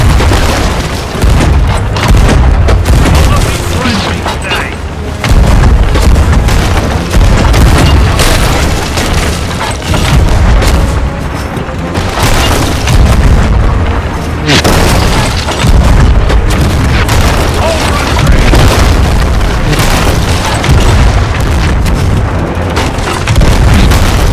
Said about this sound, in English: Go bring some cannons. There we go. Fire! Fire! Fire!